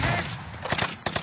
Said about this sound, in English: Somebody's firing on us!